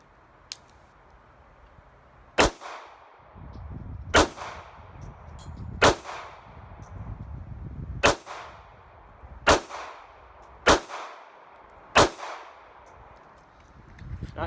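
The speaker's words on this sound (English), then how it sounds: "First shots fired out of this gun" Seven sharp gunshots from a Sig Sauer P238 pistol crack out at an outdoor range, spaced roughly evenly a couple of seconds apart, each with a short ringing decay.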